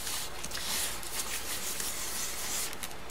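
A rubber brayer rolls across embossed paper, giving a soft continuous rubbing and rasping texture, close and quiet, with slight surges as it travels.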